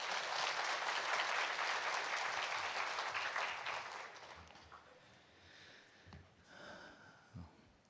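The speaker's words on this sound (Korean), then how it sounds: "목사님 나오실 때 박수로 환영해 주시면 감사하겠습니다" Congregation applause welcoming a pastor at a Baptist church dawn prayer service, dense clapping for about four seconds, then fading to scattered claps and quiet room noise.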